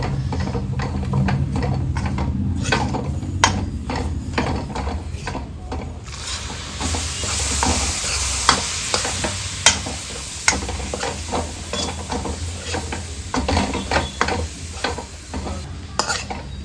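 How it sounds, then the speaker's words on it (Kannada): A spoon scrapes and stirs a milk powder Dharwad peda mixture frying in a pan, giving a continuous soft sizzle broken by frequent sharp, irregular scraping clicks, close and loud. "ಹಾಲು ಹಾಕಿ ಆದ ಮೇಲೆ ನೋಡಿ ಇಷ್ಟು ಸಾಫ್ಟಾಗಿ ಫ್ರೈ ಮಾಡ್ಕೋಬೇಕು"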